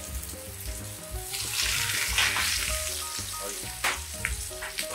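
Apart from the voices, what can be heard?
Wiener schnitzel cutlet frying in pan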